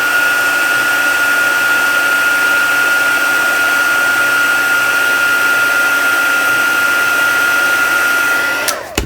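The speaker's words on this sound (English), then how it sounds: "Then I'm going to pour embossing powder all over it, tip off the excess, and let's heat set that." A heat gun blows steadily at close range for about nine seconds, a loud even whirring hiss melting embossing powder on a small inchie craft piece, cutting off abruptly at the end.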